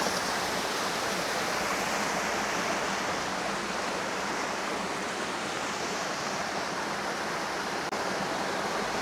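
A small waterfall in a forest stream pours in a steady, dense rush of water that holds constant throughout, close up and without voices.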